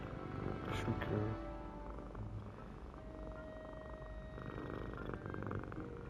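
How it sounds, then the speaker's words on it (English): A kitten purrs in a lap during a Hogwarts Legacy gaming session, a soft, steady low rumble that runs throughout under a game soundtrack and a brief voice. "now I've got a kitten in my lap, purring, hindering my gaming performance"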